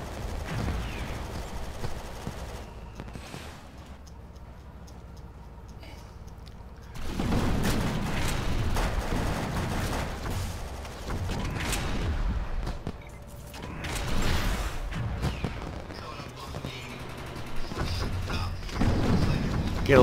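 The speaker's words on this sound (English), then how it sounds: "it looks like everyone wants to break out the rocket launchers" Rocket launcher explosions in the Defiance online shooter, heard as repeated loud booming blasts and crackling gunfire that swell and fade across the stretch, with dense battle noise throughout and occasional voices in the background.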